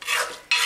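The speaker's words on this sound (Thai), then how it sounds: "นี่ค่ะคลุกเคล้าให้เข้ากันเลย" Shrimp chili paste being mixed together with chopped fresh shrimp in a mortar, giving two close bursts of wet, scraping stirring and rubbing, the first swelling and fading and the second starting abruptly, with no talking.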